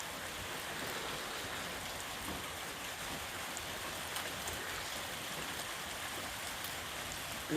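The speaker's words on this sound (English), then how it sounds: "Listen, can you hear the rain? It's raining and I'm sitting inside a shelter" Steady rain falling outside a trail shelter on the Appalachian Trail, an even, soft hiss with no voices, constant and unbroken throughout.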